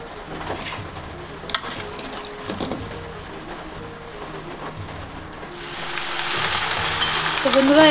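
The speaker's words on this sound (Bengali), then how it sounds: "এই যে আমার মিষ্টি কুমড়া দিয়ে টক সবজি দিয়ে নিরামিষ তরকারি বসিয়ে দিয়েছি" A vegetarian sweet pumpkin and mixed vegetable curry cooks in a pan with a soft, continuous sizzle and occasional stirring knocks, growing louder and brighter toward the end, with faint bird calls in the background.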